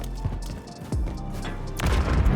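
A grenade is thrown in Modern Warfare III on the Sub Base map, with loud game explosions and gunfire bursts punching through continuous battle noise.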